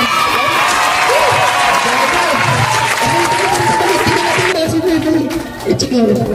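A crowd of senior citizens at a Christmas gift-giving event claps and cheers, a loud, dense spell of applause with voices mixed in, easing off toward the end.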